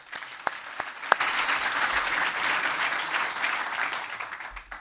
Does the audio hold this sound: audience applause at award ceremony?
yes